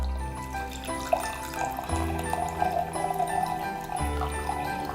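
A drink is poured heavily into a glass, a steady liquid splash and trickle running continuously close by with a brief pause partway through.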